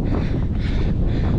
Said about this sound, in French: là j'ai un petit vent ici